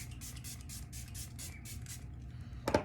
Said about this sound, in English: I'm gonna go ahead and spray my finishing spray to kind of make it last a little longer.